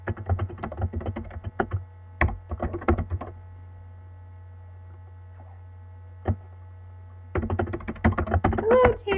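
Bursts of quick clicking keystrokes on a computer keyboard as an email is typed, separated by a long pause with a few isolated taps, over a constant low mains hum. No voice.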